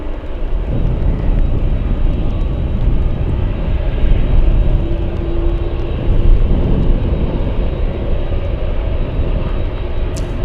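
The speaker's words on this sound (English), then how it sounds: "Next arrival we have is an Alaska Airlines 737." An Alaska Airlines Boeing 737 arrives on runway 15 at Anchorage in gusty winds, its engines a loud, broad, sustained roar that holds steady throughout, close by with rumbling low-end wind noise.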